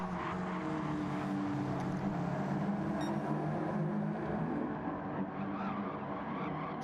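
Race cars in a stock-car racing video game, one spinning out with tires skidding and squealing amid steady, loud engine roar from a close pack running nose to tail.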